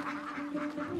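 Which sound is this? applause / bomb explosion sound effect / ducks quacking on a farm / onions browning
ducks quacking on a farm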